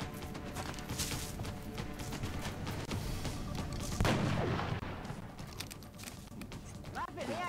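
Sharp gunshot blasts ring out in a busy XCOM: Enemy Within game soundscape, with a loud impact near the middle and steady background music and effects.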